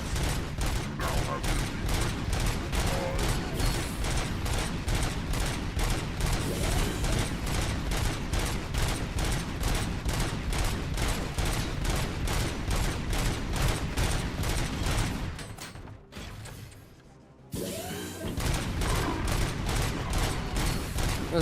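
Sustained rapid automatic gunfire from the RoboCop video game, a steady loud stream of shots that drops out briefly near the end before resuming.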